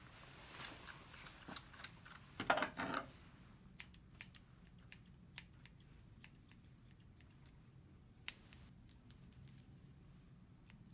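Grooming scissors trimming the matted fur of a Shih Tzu, with a series of quick, crisp snips at close range, some in clustered bursts and others spaced apart, against a quiet background.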